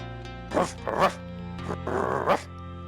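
Dog barking in the survival video game DayZ: several short, loud, throaty barks, spaced out over a few seconds, close up and standing out above a steady low hum.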